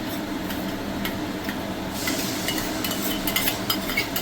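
Tomato sauce, chilli sauce and soy sauce being stirred together in a pan for egg chicken fried rice, a steady scraping and sizzle with light utensil clinks that brighten in the second half, close and continuous with no talk.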